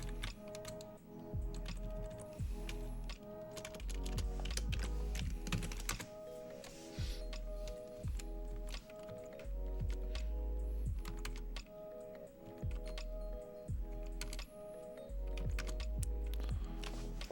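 Fast bursts of typing on a computer keyboard while a hosts file is edited in a terminal: close, crisp key clicks in uneven runs with short pauses and no one speaking.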